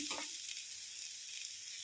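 Ginger and spices sizzling in hot oil in a pan for tomato rasam, a steady close hiss of frying with a brief stir at the start, no voices.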